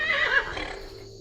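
A horse neighing in a clown-themed video game, one short bright whinny that rises and falls, close and clear with no talk.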